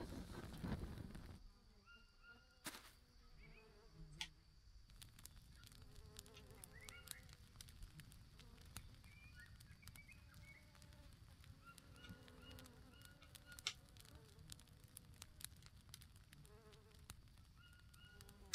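Bees buzzing around a beehive in the survival video game Green Hell: a faint, continuous insect drone with small fluttering variations, mixed with quiet game ambience throughout.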